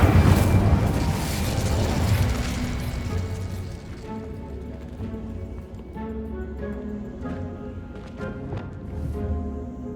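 A fire spell blast from Hogwarts Legacy bursts out as a loud, dense boom in the opening seconds, then settles into a lower rumbling crackle with scattered pops and game music carrying on beneath.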